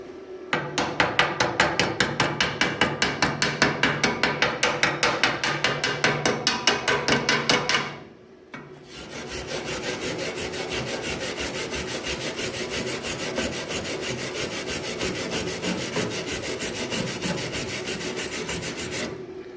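Rapid, steady hammer taps chip slag off a fresh MIG weld for about eight seconds, then after a brief pause a continuous harsh scraping or wire-brushing follows, loud and close, with no talking.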